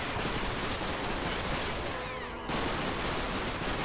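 Loud, continuous gunfire from a close-quarters battle in a World War II bridge game, a thick wall of overlapping shots and bursts with no pauses.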